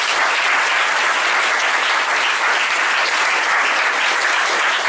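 A congregation at a French-language Easter worship service applauds and cheers for the Lord, a steady, dense wash of clapping that stays loud and unbroken from start to finish.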